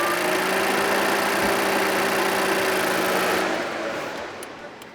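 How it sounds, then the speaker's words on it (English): A car's A/C compressor hums steadily under a running engine, a constant mid-range drone with a faint whine that holds for about three and a half seconds before fading and thinning out. "listen for the humming sound of the compressor turning on and off"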